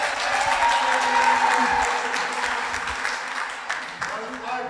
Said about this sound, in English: There are people clapping for me even before I can speak.